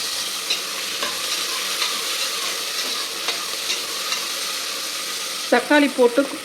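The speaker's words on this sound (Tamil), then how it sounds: "தக்காளி போட்டு கொஞ்சம் வதக்கின உடனே" Tomatoes and green chillies sautéed in a pan for a vegetable biryani. A steady frying sizzle plays throughout, and louder, nearby scrapes of stirring come in near the end.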